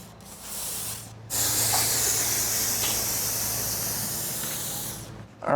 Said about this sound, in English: I'm just gonna spray this up in the track.